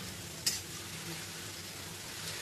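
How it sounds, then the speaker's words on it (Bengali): Boras (fritters) fry in oil over a medium gas flame, a soft, steady sizzle close by with one sharp clink of a utensil against the pan near the start. "গ্যাসটা আমি মিডিয়াম আঁচে দিলাম, দিয়ে বড়াগুলো ভেজে নেব।"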